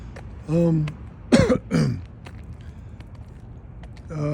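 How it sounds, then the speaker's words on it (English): A few harsh, throaty coughs and throat clearing close to the mic, with short bursts separated by quiet pauses and a brief voiced sound. "you see it's making me cough"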